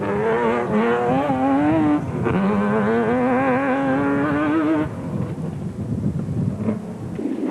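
Off-road race cars at the Carnival City 400 in 2005, including a Jimco 3.6 space frame car, roar past with a high engine whine that rises and falls over several seconds before dropping to a rougher, quieter rumble.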